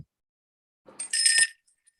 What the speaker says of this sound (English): ring the bell again, Annette